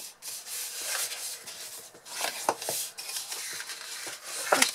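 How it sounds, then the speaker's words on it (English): Paper being folded along score lines and burnished for a large flip-top box, giving soft, close rubbing and scraping strokes in uneven bursts with a few light taps. "we're going to fold and burnish these score lines"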